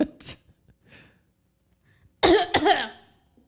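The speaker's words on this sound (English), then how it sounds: "Yeah, I just coughed on you on purpose." One loud, close, deliberate human cough made in burst after a stretch of faint murmuring and near silence, part of a casual podcast conversation.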